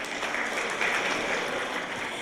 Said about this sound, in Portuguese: Palmas para quem votou para a cachoeira.